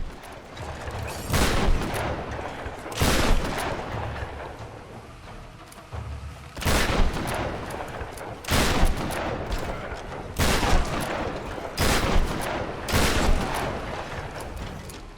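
Gunfire from Tomb Raider Definitive Edition comes in repeated bursts, loud shots and rattling volleys spaced every second or two over about fifteen seconds amid a fight against shielded enemies, with a little talking.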